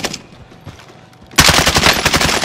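Rapid automatic gunfire in Call of Duty: Warzone, a loud, dense burst of close shots that starts abruptly after a quieter stretch of a few scattered pops and keeps rattling to the end.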